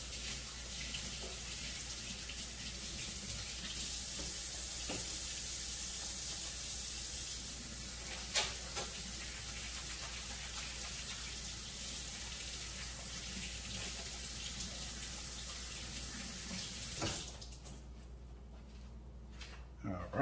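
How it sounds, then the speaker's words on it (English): Running tap water pours steadily into a kitchen sink as hands are washed during meatloaf prep, a continuous hiss that stops abruptly near the end. "Let me wash my hands."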